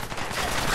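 Gunfire in the Fallout 4 video game, a dense burst of rapid shots blending into a continuous rattle for under a second, fairly loud with no voice over it.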